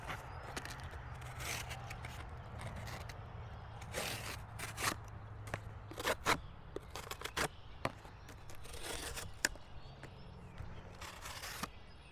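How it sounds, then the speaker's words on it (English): A CIVIVI Clingman knife slices through a cardboard box, giving faint, scattered scraping and tearing cuts in irregular bursts over a low background hum. The sounds are quiet and close by, with no talking. "Just gonna break apart this box real quick."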